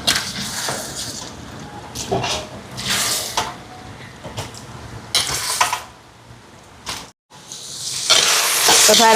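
Tomatoes sautéing in a pan for a Sri Lankan Tamil home-cooked lunch, a steady sizzle with scraping stirs and clinks of a spoon, while someone talks over the cooking.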